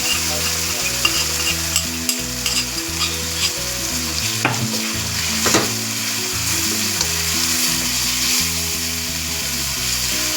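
Coriander chutney sizzles in hot oil with popped mustard seeds and asafoetida, a strong continuous frying hiss with a few sharp crackles, heard under a low humming background tone, without speech.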